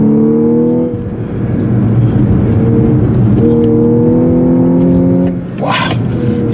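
A 2014 Audi S4 Quattro driving hard on a tight racetrack, its engine a close, loud, steady drone that climbs in pitch, with brief dips near the one-second and five-second marks, and no talking.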